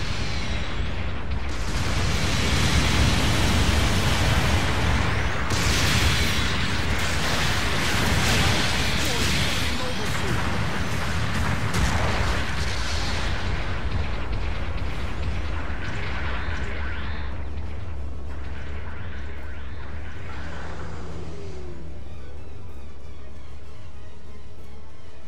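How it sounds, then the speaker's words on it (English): Long-range artillery supporting fire in a video game, heavy rumbling blasts and roaring booms rolling continuously with crackling debris, loud and dense, with game voice lines heard over the barrage. "Long-range supporting fire is a go."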